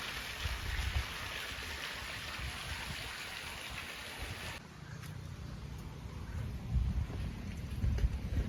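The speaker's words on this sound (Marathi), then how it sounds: "शिवलिंगामधून जे अविरत पाणी वाहत आहे ते मंदिराच्या शेजारी हा तलाव आहे, यामध्ये ते पाणी जातं" Water pouring without pause from a Shivling into a lotus-filled pond beside a temple, a steady rushing wash that drops lower and grows rougher partway through as the flow and the splashing beneath it shift.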